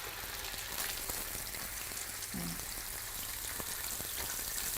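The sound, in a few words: eel frying in a pan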